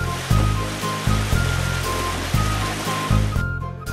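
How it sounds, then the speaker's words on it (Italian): Streams and small waterfalls along a hiking trail in Iceland, a steady broadband rush of flowing water with repeated low thumping bursts, likely wind buffeting nearby. "ovunque ci sono ruscelli e piccole cascate"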